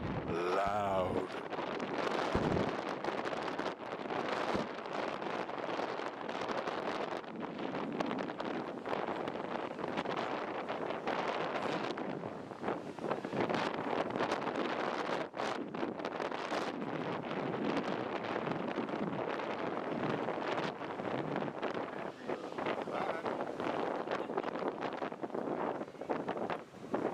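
Strong wind at an ocean beach roars loudly and steadily across the microphone for the whole stretch, with gusty buffeting. A faint voice is partly buried beneath it.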